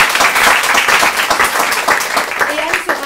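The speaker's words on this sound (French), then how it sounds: "on va applaudir Anne" Audience applause at a live event in Clermont-Ferrand, a dense crowd clapping steadily and loudly throughout, with a little voice noise mixed in and the clapping thinning slightly near the end.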